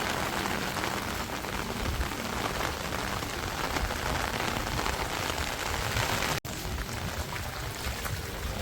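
Heavy rain hammers down on a Surat residential society, a loud, dense, constant roar of drops on surfaces with one brief dropout near the end and no talk.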